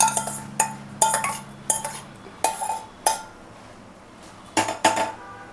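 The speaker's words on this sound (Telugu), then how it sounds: "అదైతే నేను ఇప్పుడు పప్పులో మిక్స్ చేస్తున్నానండి" A spoon stirs tempering into cooked dal in a metal pot, knocking and clinking against the sides in a run of sharp, close strikes with short pauses between them.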